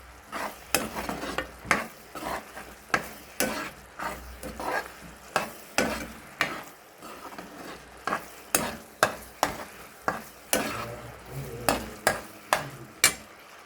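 Beetroot halwa cooking in ghee in a pan, stirred with a steady rhythm of close, regular scraping strokes over a continuous sizzle, with no one talking.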